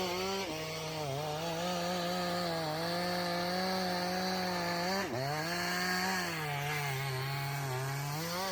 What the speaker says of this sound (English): Chainsaws slice through limbs, leaving behind clean, manageable sections.